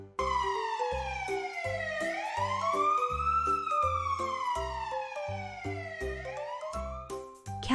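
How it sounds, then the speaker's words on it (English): A fire truck siren in a children's transportation cartoon wails steadily, rising and falling in long sweeps over a bouncy, rhythmic music beat that runs throughout. "Here come Xavion and Lulu in a fire truck."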